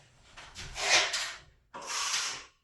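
A drywall knife swipes joint compound along a ceiling butt joint in two long scraping strokes, the first rising and falling over about a second, then a brief pause before a second steady swipe, close and fairly loud with no talk.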